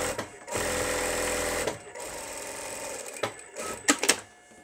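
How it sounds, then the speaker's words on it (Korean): A sewing machine runs in a steady close burst stitching a 1 cm seam allowance on a fabric diaper pouch, then stops and gives a few shorter stitching spurts and clicks as the fabric is handled. "시접 1cm로 해서 박음질 할게요"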